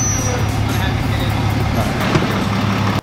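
Steady low engine rumble and road noise from a truck driving after a 68RFE transmission installation, a loud continuous drone that cuts off abruptly at the end.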